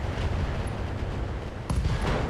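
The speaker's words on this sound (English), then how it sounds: "LRM ER ammo explosion, and the Hunchback is out of here" LRM ER ammunition exploding in the RogueTech mech game, destroying a Hunchback: a dense, continuous roaring blast with a fresh burst of rumble partway through, loud and close.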